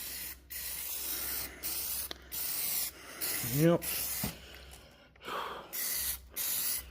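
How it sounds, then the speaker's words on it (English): Green spray paint hisses from an aerosol can onto a John Deere X300 lawn mower in several short bursts separated by pauses, close and moderately loud, with a brief spoken word in between. "I got one place to spray green"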